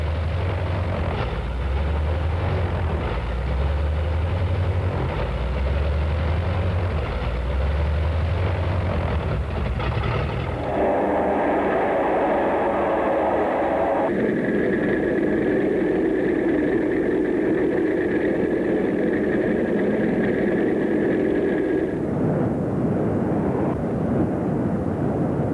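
Carrier-based warplane engine running on the flight deck of an aircraft carrier before takeoff, a loud steady drone with a shifting pitch and throbbing low pulses, changing in tone partway through.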